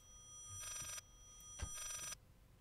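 Two bursts of an electronic telephone ring in the horror game Layers of Fear, each about a second long with a short gap between, clear and fairly quiet over a faint background with no talking.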